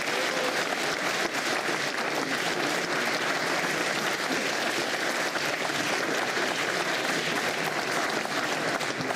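Sustained applause from an audience at a Cambridge Union debate, a dense, even clatter of many hands clapping at full strength for the whole stretch with no voices breaking through.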